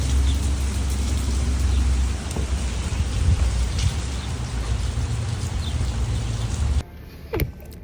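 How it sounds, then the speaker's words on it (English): Steady heavy rain pours down, a dense hiss with low rumble throughout, then drops away near the end leaving a few faint drips. "it's a rainy day"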